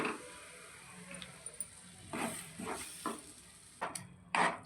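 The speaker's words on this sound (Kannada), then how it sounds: "ಖಾರದ ಪುಡಿನ ಎಣ್ಣೆಯಲ್ಲಿ ಫ್ರೈ ಮಾಡ್ಕೊತಿದ್ದೀನಿ" Chili powder and ground masala frying in oil, a soft sizzle under irregular stirring scrapes and knocks against the pan, fairly quiet and close.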